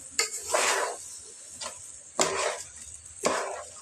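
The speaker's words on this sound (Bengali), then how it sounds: "এখন আমি এগুলাকে সব কিছু পেঁয়াজ মরিচ সব কিছু একসাথে মিক্স করে নিচ্ছি" Rice stirred together with onions and chillies in a pot for Bengali polao, giving a few separate scraping, rustling strokes about a second apart, moderately close with quiet pauses between them.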